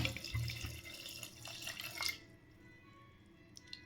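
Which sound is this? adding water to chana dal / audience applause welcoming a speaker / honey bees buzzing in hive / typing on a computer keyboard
adding water to chana dal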